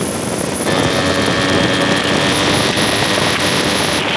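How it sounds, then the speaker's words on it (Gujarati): Yamaha RX100 two-stroke motorcycle engine firing, a loud, steady, dense roar held close for the whole stretch with no let-up. "આજે તો ફાઇનલી મેં RX100 ચલાવી જ લીધી, તો એનું ફાયરિંગ તમને સંભળાવી દેમ."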